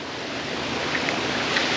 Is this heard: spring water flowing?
yes